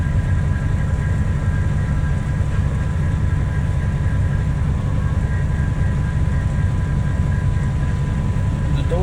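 A dump truck mixing concrete on its belt, heard as a loud, steady mechanical rumble and drone that holds constant from start to finish.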